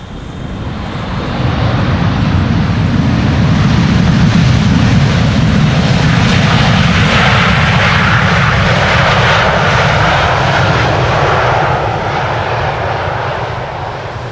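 A KLM Boeing 787-10 Dreamliner arrives at Amsterdam Schiphol in stormy wind, its engines a loud, steady roar that swells in and holds for over ten seconds before easing slightly, with gusty wind noise mixed in.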